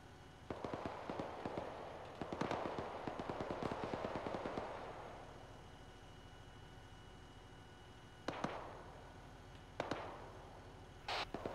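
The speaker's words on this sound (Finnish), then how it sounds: "Bensakatokseen north-east puolelta ammutaan" Gunfire cracks from the northeast of a gas station, a rapid burst of shots early followed by a few scattered distant reports over a quiet background.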